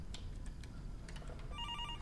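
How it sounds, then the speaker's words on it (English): A phone ringing in the horror game Fears to Fathom: Norwood Hitchhike, faint repeated rings emerging at the end over a low rumbling background. "Your phone ringing."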